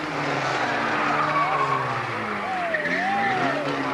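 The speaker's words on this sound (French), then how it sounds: "il faut que le premier pilote réussisse parfaitement son premier dérapage. Dérapage enchaîné." Stunt cars perform a chained skid in a stunt show, tires squealing in long wavering tones over a steady rushing engine roar, fairly loud and continuous throughout with no talk.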